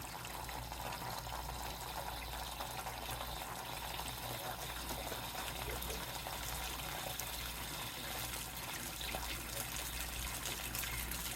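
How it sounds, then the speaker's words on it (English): A 6-gallon RV water heater tank fills with water, a steady continuous rush and trickle of flowing water running unbroken and fairly quiet throughout. "it's a 6-gallon tank, so you got to let it fill up."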